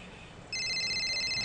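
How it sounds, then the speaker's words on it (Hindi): A phone rings on a busy street while waiting for an auto-rickshaw, its electronic tone starting abruptly and continuing steadily over a low background hum, with no talking. "फोन आला, अदितीचा आहे।"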